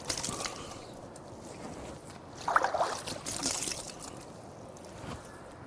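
Water splashes and trickles as a face and beard are washed during wudu, faint soft splashing with a brief louder splash midway, heard close.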